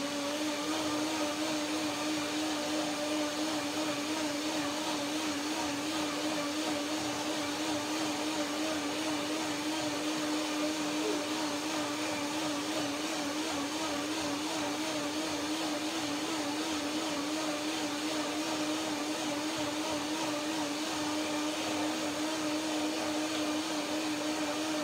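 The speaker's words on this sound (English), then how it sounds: "I will do one more blending. The blender dance number 2." A blender runs continuously at high speed, pureeing raspberries, pears and lemony cashew cream with a steady, loud whirring drone that holds for nearly half a minute without pause or voices.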